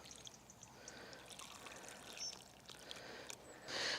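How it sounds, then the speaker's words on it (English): Water trickling and pouring over firmed compost around freshly set plant cuttings in a pot, a soft steady splash and dribble that swells louder near the end, with no voices. "Give it a little water."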